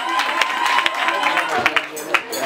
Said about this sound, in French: Applaudissez pour LN Télécom.